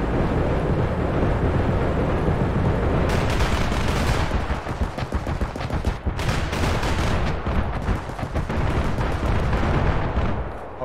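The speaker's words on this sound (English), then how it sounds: "He's shooting that gun from up there." Shots from a gun fired from an elevated position in Escape From Tarkov ring out in rapid repeated cracks and bursts over a steady rushing background, loud and with no talking.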